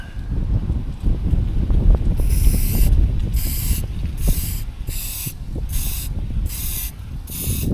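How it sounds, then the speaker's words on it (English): Primer sprayed onto a bare plastic part of a Mustang in several short hissing bursts, each a few seconds long, loud and close over a rumbling background. "I'm going to shoot this thing with primer now"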